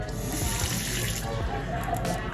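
Steady water running from a sink tap into a basin, a continuous close splashing hiss with no talk over it, in a lash studio setting.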